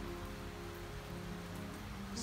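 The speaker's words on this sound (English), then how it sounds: "stands at the door," Steady rain falls just outside a door, a dense, even hiss that continues unbroken throughout.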